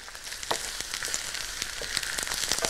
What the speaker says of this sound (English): Mmm, the sizzling now.